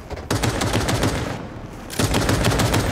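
Rapid, loud gunfire in the video game Cyberpunk 2077, fired with a shotgun: a dense string of sharp shots that nearly blur into a continuous roar, pausing briefly midway before another burst.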